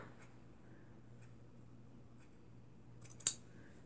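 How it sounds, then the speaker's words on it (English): Scissors make a single crisp snip through fabric for a Barbie doll jacket near the end, following quiet background hum, close and otherwise still. "Now cut this part off."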